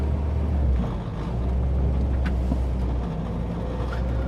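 A 26-year-old Mk1 Volkswagen Golf GTI pulls away, its engine a steady low rumble close by and continuous throughout, with no talk over it.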